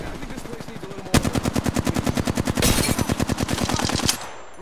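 Rapid automatic gunfire in Apex Legends, a steady loud burst of evenly spaced shots lasting about three seconds, close and punchy over faint game ambience.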